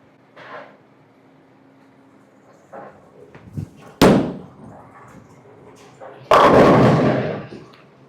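Hammer Black Pearl urethane bowling ball striking pins on a lane, two sharp crashes of pins a couple of seconds apart, the second longer and rattling, with faint murmur of an alley around them.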